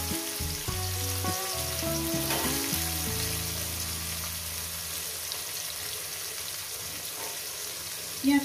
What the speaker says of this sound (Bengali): পেঁয়াজটাকে আমি 2-3 মিনিট ভেজে নেব